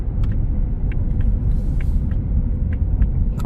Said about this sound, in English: Car drives straight, shifts perfect.